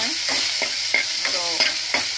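Green chillies frying in hot oil for a dal tadka, with a steady sizzle and repeated short scraping strokes of a spoon stirring the pan, close and without talk.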